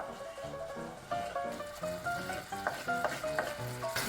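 Butter tteokbokki with pollock roe stir-fries in a pan with a soft sizzle and rhythmic stirring scrapes, heard under a melodic music backing.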